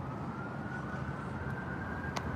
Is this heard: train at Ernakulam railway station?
no